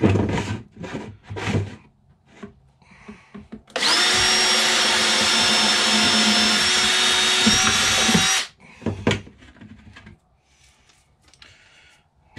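A power drill fitted with a step bit bores holes through a plastic compost bin in a steady, loud whine of about five seconds. Shorter knocks and handling noises come before and after it.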